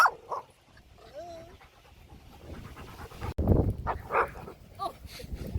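A puppy barks and growls in short aggressive bursts, panting and whimpering between them, close to the microphone, with a person talking over part of it.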